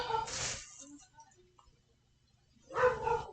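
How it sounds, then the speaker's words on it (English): A dog barks in two short bursts indoors during a cross-stitch session, with a quiet gap between them. The barking is moderately loud and somewhat distant, with no talk over it. "the dog's barking again."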